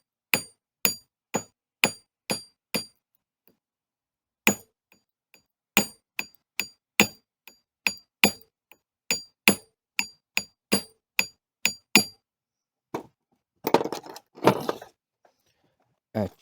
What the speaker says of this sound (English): Now I have a flat hammer.